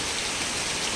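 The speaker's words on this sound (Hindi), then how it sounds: "इतनी ज़ोर से बारिश हो रही है" Heavy early-morning rain pours down in Jammu as a dense, steady roar of drops hitting surfaces, loud and continuous with no gaps.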